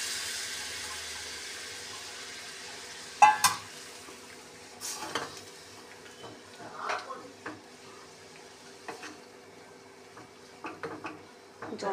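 Water goes into a pan of frying fish roe curry with fish oil, giving a low, steady sizzle. Sharp clinks and scrapes of a utensil against the pan are scattered throughout.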